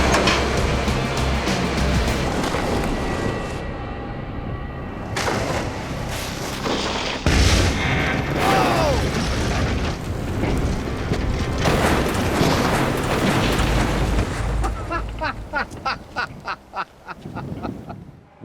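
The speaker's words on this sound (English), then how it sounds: "the gas tank took the brunt of the impact and did burst into flames" A car rolls off a cliff and crashes down, with heavy, booming impacts and a sustained roar of wreckage and fire that fades into a rhythmic series of dull thuds, loud and outdoors.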